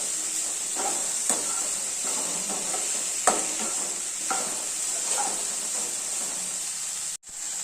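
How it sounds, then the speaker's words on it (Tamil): Ridge gourd, onion, dried chilli, garlic and tomato sauté in a pan of oil with a steady soft sizzle and hiss, broken by a few light clicks of stirring, with no voices. "பீர்க்கங்காய் எல்லாத்தையும் நல்லா வதக்கிக்கலாம்."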